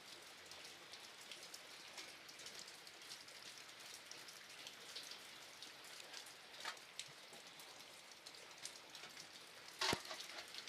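Rain falls steadily on surfaces outdoors, a soft, even patter of scattered drops, faint and continuous, with one sharp brief knock near the end.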